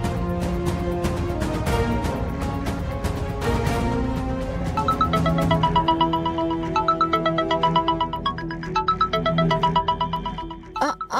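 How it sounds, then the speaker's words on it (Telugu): A phone's incoming-call ringtone plays a loud, steady melodic tune, its repeating tones continuing alone for about eleven seconds with no voices over it. "ఎవరో ఫోన్ చేస్తున్నారు."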